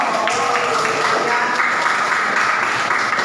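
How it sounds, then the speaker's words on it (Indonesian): A classroom audience gives steady, dense applause at a lesson on Islam and prayer. The clapping is even and fairly loud throughout, with no pause. "Tepuk tangan ya."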